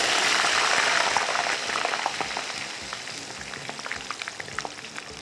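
A small final batch of New York-style fries sizzles steadily in hot oil, a loud, dense crackle that eases slightly over time, with scattered popping bubbles and no voices.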